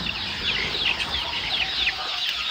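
A flock of six- to seven-week-old layer chickens on a poultry farm at vaccination time makes steady, busy chirping and clucking, a continuous close-up flock chatter with no voices over it.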